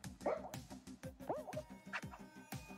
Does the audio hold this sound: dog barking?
yes